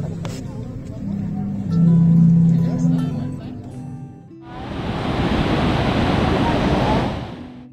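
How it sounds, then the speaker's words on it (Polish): Sea waves surging against the waterfront sea organ on the Dalmatian coast of Croatia, a broad rushing wash of surf in the second half, preceded by lower droning tones and ambient noise. "organy na nabrzeżu, grające na skutek ruchu fal"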